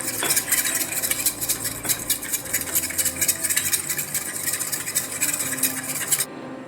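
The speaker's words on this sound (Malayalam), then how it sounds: "പിഞ്ച് ഉപ്പ് ചേർത്ത് കൊടുത്ത് മുട്ട നന്നായിട്ടൊന്ന് ബീറ്റ് ചെയ്ത്." Eggs being beaten with a pinch of salt in a bowl, with fast continuous whisking and clinking strokes close up, steady and moderately loud, stopping abruptly near the end.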